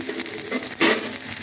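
Chopped garlic hits hot oil just after fried shrimp are set aside, giving a brisk sizzle with a louder burst of spitting midway as it is stirred, close and alone.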